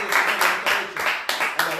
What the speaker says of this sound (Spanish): Demos un aplauso fuerte al Señor.